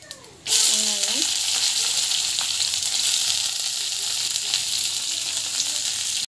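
Chopped onion and green chilli drop into hot oil already holding mustard seeds, cumin and chana dal for aval upma, bursting into a loud, steady sizzle after a brief clatter, continuing evenly to the end.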